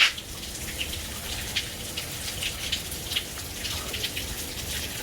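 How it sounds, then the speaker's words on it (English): Water leaking from a roof drips steadily onto a surface, producing soft, irregular pattering drops close by over a quiet hiss. "So the water is leaking from the roof up there."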